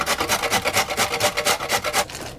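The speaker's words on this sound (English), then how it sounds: "Yeah, carrots are grated." Unpeeled carrots rubbed against a metal grater for a quick salad, a steady run of rasping strokes in even rhythm, close and fairly loud, stopping near the end.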